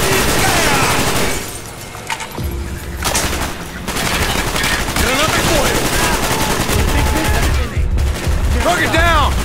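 Call of Duty Black Ops campaign combat brings loud, dense bursts of machine-gun fire and rattling volleys, with brief impacts and game voices calling out between the shots.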